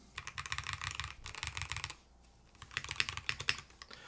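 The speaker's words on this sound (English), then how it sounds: "Let's put the rest of these keycaps back on." Keycaps being pressed back onto a Lofree Hyzen mechanical keyboard fitted with foam, giving dense bursts of close clicky snaps and clacks, a quiet pause in the middle, then more scattered taps.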